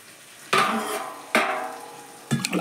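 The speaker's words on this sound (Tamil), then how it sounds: "அதில் நான் எப்பயுமே இந்த செம்பில் தான்ப்பா தண்ணி ஊற்றுவேன்." Water is poured from a sembu pot onto two tumblers of washed rice in a cooker, in three separate splashing gushes, each starting abruptly and fading. No one talks.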